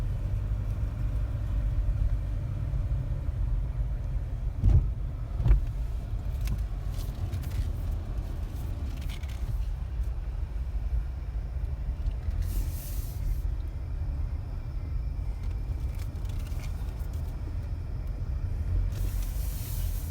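A flooded car's engine keeps running after being started, a low, steady rumble throughout, with brief clunks and intermittent hissing bursts over it and no talking.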